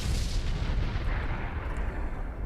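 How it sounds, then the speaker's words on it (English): Dense, continuous rumbling explosions roll through a battle in the video game Star Trek Online, loud and sustained with no pauses. "There's like explosions still all over the place."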